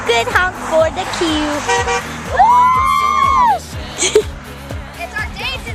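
A school bus horn blares loudly in a busy street, with a sustained honk in the middle and a shorter toot later. Traffic noise rumbles underneath and people's voices are heard around it.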